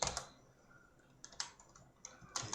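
Typing on a computer keyboard during game development work, with quick bursts of clicky keystrokes separated by short pauses, close and fairly quiet, with no one speaking.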